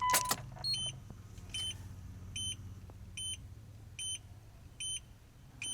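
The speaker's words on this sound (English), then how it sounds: "let's start the car up. Well, at least turn it on." A Mitsubishi Evo switched on with the ignition, giving a series of regularly spaced electronic chimes or beeps roughly once a second over a low engine-bay hum.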